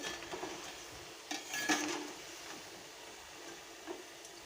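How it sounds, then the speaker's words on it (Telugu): Poha pakodi, flattened-rice fritters, fry in hot oil with a soft, steady sizzling hiss, broken by a few light metal clinks and scrapes from a stirring utensil against the pan. "మంచి గోల్డెన్ కలర్ వచ్చే వరకు వేయించి తీసేసుకోవాలి"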